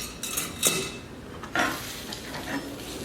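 Sour cream is folded into lobster cream corn in a hot pan, a soft sizzle under a few wet stirring scrapes and light utensil clinks against the pan, fairly close and with no one speaking.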